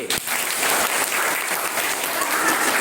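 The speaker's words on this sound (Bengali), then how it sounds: "দারুণ জুড়ে হাততালি" Loud, continuous applause from an audience after a fifth-grade girl's song, a dense clapping wash that fills the whole moment without pause.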